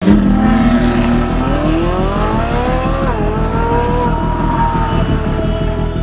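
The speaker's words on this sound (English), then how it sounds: "Driving a supercar on a closed circuit track." A supercar is driven hard on a closed circuit track, its engine revving loud and close as the pitch climbs and shifts through the gears. The roar is continuous and no voices are heard.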